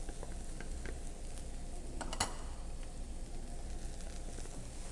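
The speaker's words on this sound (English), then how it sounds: "we're going to saute these until they start to get really soft" Mushrooms, celery, garlic and red peppers sauteing in a pan make a faint, steady sizzle with a few soft stirring clicks and one brief scrape near the middle.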